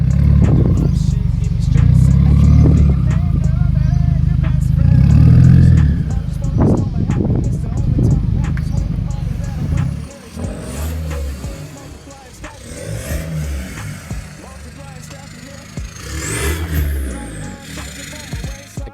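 A car fitted with an aftermarket turboback exhaust running from turbo to muffler revs loudly in a deep, rumbling burst for several seconds, then settles into lighter engine sound with occasional clatter and quieter rises.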